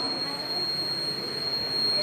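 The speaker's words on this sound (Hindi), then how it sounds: "चोर जैसे क्रॉस करेगा तो इससे अलार्म बजने लगेगा।" Light-beam sensor burglar alarm from a school science-day exhibit sounding a steady, continuous high-pitched buzzing tone, loud and unbroken throughout over a noisy room background.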